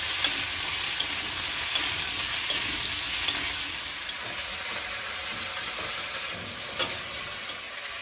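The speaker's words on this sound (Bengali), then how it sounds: "ফুলকপিটা ভাজা হচ্ছে" Cauliflower and potato fry in hot oil in a wok (kadai) with cumin seeds and green chilli, making a bright, even sizzle held close and steady, with a few sharp spatula clicks scattered over it; no speech.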